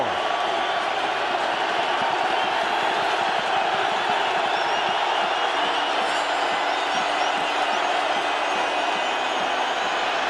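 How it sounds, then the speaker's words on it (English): Stadium crowd roaring steadily at a 2008 NFC Wild Card NFL game, Eagles at Vikings, as Philadelphia starts a drive from its own 4-yard line; a dense, loud, continuous wall of noise with a commentator talking over it. "this crowd lets the Eagles hear it"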